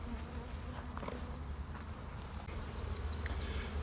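Bees buzz around an open beehive, a steady close drone of many insects with a few individual bees passing louder near the end.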